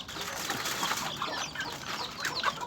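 Chickens and chicks cluck and peep close by, with soft scattered calls over a faint background.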